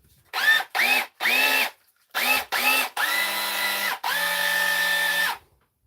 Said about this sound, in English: this SDS machine.